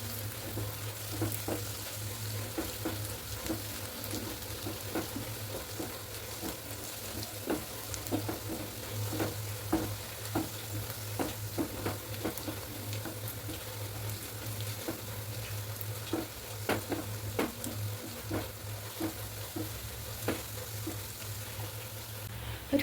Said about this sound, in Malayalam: എല്ലാം കൂടി നന്നായിട്ട് മൂക്കട്ടെ കേട്ടോ